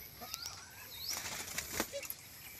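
Birds take off with several quick bursts of flapping wings, faint and fairly close, over quiet outdoor background with scattered chirps.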